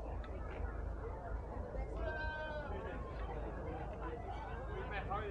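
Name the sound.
dairy goats bleating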